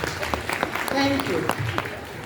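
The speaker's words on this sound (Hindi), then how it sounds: "अब पापा लोग मम्मी लोग के लिए ज़रूर ताली बजा दें, हाथ उठा के बजाएं" At a school's annual Christmas function, parents in the audience applaud for the mothers, making a broad, steady clapping wash while a voice speaks over it.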